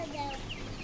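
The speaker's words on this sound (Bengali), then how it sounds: "মুরগি, সোনালী মুরগি" Thirty-day-old Sonali chickens cluck softly on a village farm, a brief murmur of fowl calls close by.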